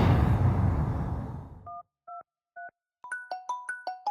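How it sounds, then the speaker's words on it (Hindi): A telephone at home, heard after a fading background noise as three evenly spaced electronic tones, followed by a quicker series of bright chirping rings, clean and close with no voices. "किसका फोन आया?"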